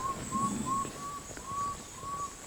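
A person whistles a repeated, steady high note in imitation of a water bird's call, faint and slightly distant over a soft outdoor hiss near a river.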